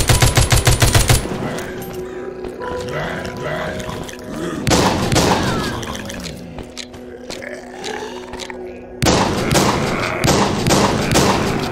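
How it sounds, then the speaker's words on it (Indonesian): Heavy shotgun blasts in the zombie shooter Walking Zombie 2, loud and close: a rapid cluster at the start, then single booming shots after long gaps, with quieter game ambience between them. "Shotgun nih, bos."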